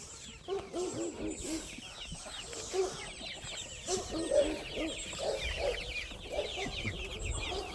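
A flock of backyard chickens clucks continuously at a low level, with overlapping soft clucks and occasional louder calls, and no talking.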